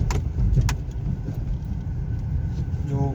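A four-cylinder Honda City running on CNG drives with a low, steady engine and road rumble from inside the cabin, with a few brief clicks and rattles near the start.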